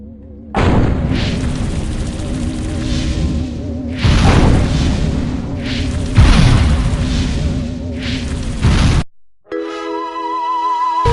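Loud gunfire and booming explosions in the video game Destroy All Humans, dense overlapping bursts and blasts in several heavy waves, cutting out briefly before a tonal game sound takes over.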